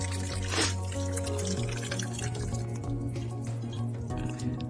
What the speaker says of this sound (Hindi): मैं अपने बोतल में पानी यहाँ से भर लेता हूँ।